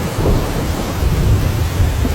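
Heavy thunder from a lightning strike rolls and rumbles loudly throughout, with steady rain hissing underneath and no voices.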